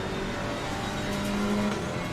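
A GT4 race car engine hums at moderate speed at Mount Panorama in a sim racing game, a steady whirring drone with a slight rise in pitch, no talk over it.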